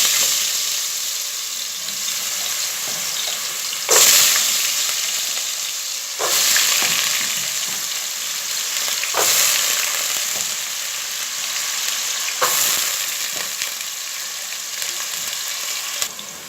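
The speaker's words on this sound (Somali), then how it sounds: "waxa ii shiilmayso ama ii qaleysmayso bardadii waxaan ku daray sanjibishi iyo toontii" Vegetables with onion and garlic fry in a pot with a loud, steady sizzle. Sharp stirring scrapes break in every few seconds over roughly sixteen seconds.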